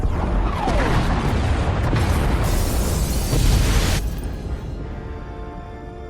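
Pod bays blowing apart in SWTOR: Knights of the Fallen Empire, a loud, sustained roar of blasts and rumbling debris lasting several seconds, then cutting to a quieter tail of settling noise.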